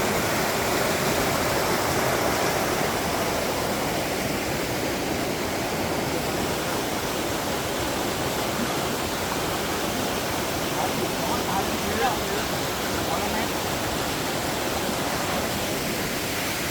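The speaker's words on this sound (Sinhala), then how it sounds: "මේ එන්නේ නාකිය දිනියල්ලේ වතුර පාර." Nakiyadeniya Ella waterfall pours in a steady, close broadband roar of rushing water that holds constant and loud without a break.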